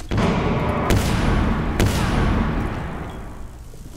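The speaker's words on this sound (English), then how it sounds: "Zofia is shooting in from that window" Gunfire in Rainbow Six Siege, Zofia shooting in through a window on the Skyscraper map; a steady rattle of shots punctuated by two sharp louder cracks, fading toward the end, with no speech.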